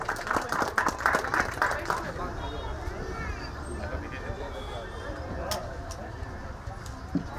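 An audience at a free eye and health checkup camp claps for about two seconds, then the applause fades into steady crowd chatter and background murmur.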